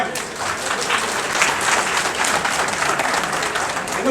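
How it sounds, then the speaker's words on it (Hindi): Loud, dense applause from an audience at an oath-taking ceremony for newly elected office-bearers of the Garhwal Hitaishini Sabha at Garhwal Bhawan, Delhi, steady throughout. "सभी के लिए बहुत जोरदार तालियां।"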